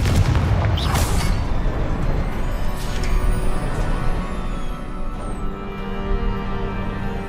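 A Confringo fire spell explodes in Hogwarts Legacy, opening with a loud burst and crackle, then giving way to a dense, rumbling din of magical combat that keeps up steadily to the end.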